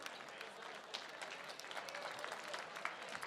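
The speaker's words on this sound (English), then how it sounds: "big round of applause to Emily Mabbitt and Edward Monrad for putting this together" Gala audience applauds the event organizers, a continuous wash of many hands clapping at moderate distance, steady throughout with scattered sharper claps.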